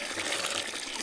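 A steady gush of fresh water pours continuously and fairly loudly, a brief unbroken splash.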